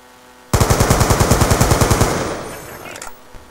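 Video game gunfire: a sudden loud burst of rapid automatic shots, around fifteen evenly spaced cracks in under two seconds, then a fading echoing tail with a faint clatter.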